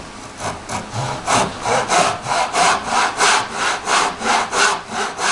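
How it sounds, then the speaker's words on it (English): A jigsaw cuts a groove in wood for a lap joint, with loud, close, rhythmic rasping strokes of about two per second that continue steadily throughout, and no talking. "We're going to get our jigsaw."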